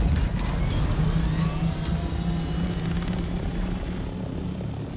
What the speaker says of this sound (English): Bring out the chopper.